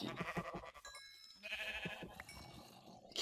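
Sheep bleating in the Minecraft video game, several overlapping game bleats and cries over busy in-game noise, fairly loud and continuous for a few seconds.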